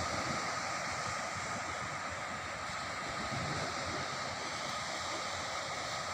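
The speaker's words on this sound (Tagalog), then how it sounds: "Ayan, maalon." Rough sea waves wash against a shore seen from a little distance, a continuous broad rush of surf mixed with wind, steady in level without any talk.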